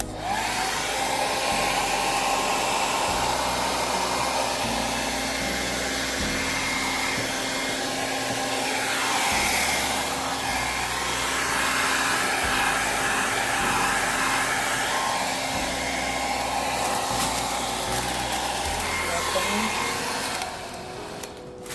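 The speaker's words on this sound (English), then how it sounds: "So now you'll take your blow dryer and begin to blow dry it." A handheld blow dryer blows steadily over a papier mache Easter basket, a loud, continuous whooshing roar that holds nearly unchanged for over twenty seconds with no talking.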